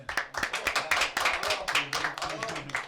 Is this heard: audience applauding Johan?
yes